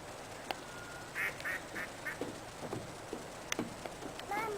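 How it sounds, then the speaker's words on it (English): Ducks quacking at a park pond, a few short bursts of quacks close by over a steady outdoor background with faint scattered sounds. "Look at all the ducks."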